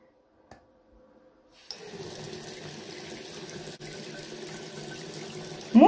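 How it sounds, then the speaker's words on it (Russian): Near-silence, then a tap opens and water runs steadily, a constant hiss and splash continuing to the end after a faint click. "Все, водичка течет."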